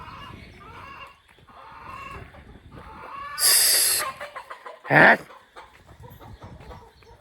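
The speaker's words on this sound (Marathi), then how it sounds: "कोंबड्या मस्तपैकी हो" Chickens on a farm cluck and rustle close by, with two brief sharp squawks breaking out among the softer low clucking; no one speaks.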